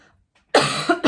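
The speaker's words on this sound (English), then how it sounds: "There's gonna be coughing in this reading." One sudden, harsh cough from a sick woman breaks a brief near-silence, close and loud, with a second short cough at the end.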